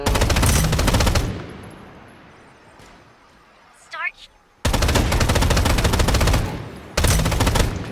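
The player's gun firing in the game Strinova: loud, rapid automatic bursts close up, a long burst, then a quiet gap with a brief chirp, then two more sustained bursts of fire.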